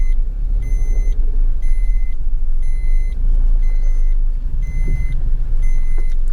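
A car engine strains and rumbles as the vehicle pulls out of mud on a snowy mountain road, a steady heavy drone with a repeating high reversing beep pattern over it, loud and close.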